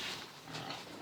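Pigs on a farm grunt and snuffle in a short, close burst of rough, noisy oinking, faint and unbroken, with no voices.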